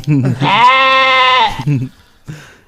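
A Minecraft sheep gives one drawn-out bleat lasting about a second, loud and close, with people talking just before and after it.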